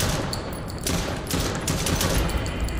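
Sustained automatic gunfire from a body cam horror game, Chuxie: a dense, continuous fusillade of close, loud shots with no pauses, filling the whole stretch with no voices.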